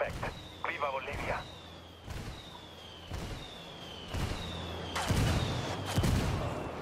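Called-in indirect artillery fire in Ghost Recon Wildlands lands as a steady series of heavy booming impacts, about one per second, each with a whistling descending tone, growing louder toward the end, with brief voice chatter early on.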